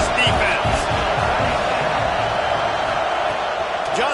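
Stadium crowd roaring for the defense at a football game on a big third down: a loud, continuous wash of cheering throughout, under a commentator's voice.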